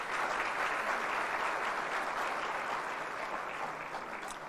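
An audience claps in a sustained round of applause in a hall at a regional business summit in Nairobi, dense and even, fading slightly toward the end with no talk over it.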